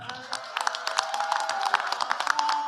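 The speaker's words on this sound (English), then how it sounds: "One more round of applause for Abdul." An audience at a school board meeting applauds a student cooking finalist, a short burst of scattered hand claps with a faint voice or tone underneath.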